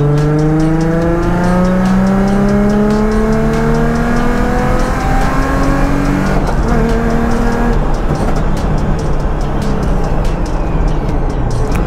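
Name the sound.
Procharged Nissan 350Z driving onto race track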